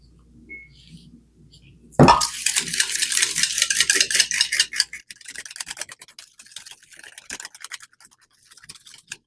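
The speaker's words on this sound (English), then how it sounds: "Whisk that nice and smooth." A whisk beating a whole milk mixture in a bowl for a pumpkin coffee cake, starting abruptly with fast, loud rhythmic clicking and scraping that softens into lighter, irregular strokes.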